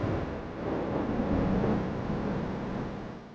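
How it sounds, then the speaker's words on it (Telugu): A long low rumble of thunder during a rainstorm, swelling and fading over a few seconds, with no talk over it. "ఉరుముల శబ్దానికి చిన్ని చాలా భయపడుతోంది."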